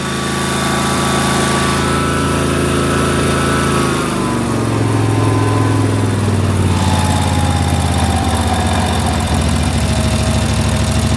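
A Snapper zero-turn mower engine runs steadily and loud close by, its pitch rising as the throttle opens partway through, then holding at a higher, busier drone.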